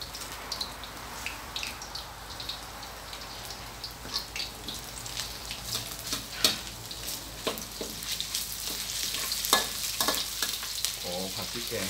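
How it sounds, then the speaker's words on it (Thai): Thai curry paste stir-fries in a hot pan for a fish curry with coconut milk and noni leaves, a dense close sizzle with frequent clicking scrapes of the spatula that grows louder and busier toward the end. "ขอผัดพริกแกงให้หอมก่อนเลยนะผมนะ"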